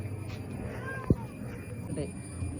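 A cat gives a brief meow-like call amid steady household background noise, with a short sharp knock near the middle; a person talks at times nearby.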